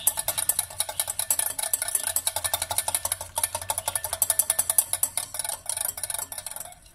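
A hand whisk beaten fast through pancake batter made with a single egg, its rapid, even clicking strokes against the bowl coming close up and steady for several seconds, with a few brief pauses.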